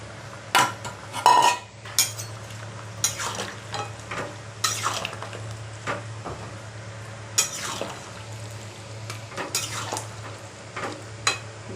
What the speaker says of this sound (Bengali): এই উচ্ছে বেগুন আর বড়িগুলো দিয়ে দিচ্ছি